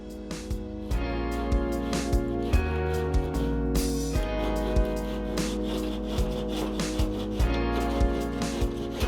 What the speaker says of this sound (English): Now we'll proceed to cut the board with a pet saw using the frame as a guide.